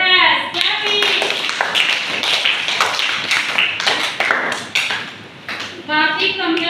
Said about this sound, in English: Yes, clapping.